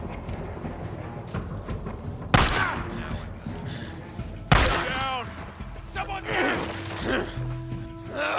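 Gunfire in the Days Gone video game, with loud bursts of shots and crashing impacts in quick clusters, shouting voices and other sounds mixed in between the volleys.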